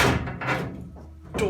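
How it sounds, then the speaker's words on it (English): A restored 1964 Mk1 Mini passenger door knocks into its frame with a dull, close thunk at the start and another near the end, with a softer scrape between them. "So I've just popped it in the door frame now just to see, out of interest, if it actually fits."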